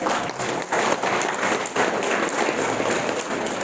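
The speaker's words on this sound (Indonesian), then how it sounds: "Tepuk tangan dulu" An audience at a formal speech event breaks into applause, a dense continuous patter of many hands at steady loudness with a faint voice or two underneath.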